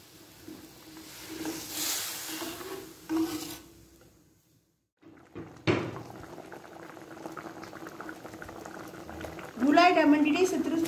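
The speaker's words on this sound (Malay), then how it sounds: "mendidihkan lagi kuah ni" Fish curry gravy made with coconut milk and curry leaves boils in a pot, bubbling steadily close up with a brief pause midway, while a voice talks over parts of it.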